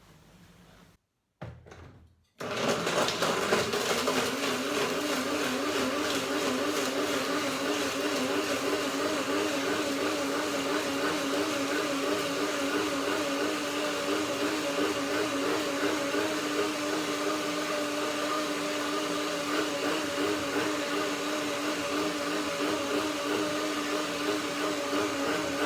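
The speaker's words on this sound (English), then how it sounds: "The blender dance begins now." After a brief knock and clatter, a blender grinds nuts and dates at a loud, continuous whir that lasts more than twenty seconds.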